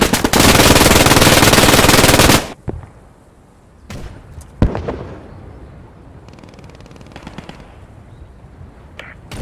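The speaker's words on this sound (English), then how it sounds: "I was shooting and you spawned right in front of my bullets." Gunfire in the World War II shooter game Squad 44: a dense, loud burst of automatic fire for about two seconds, then scattered single shots and distant cracks, with one sharp nearby report amid a quieter battlefield rumble.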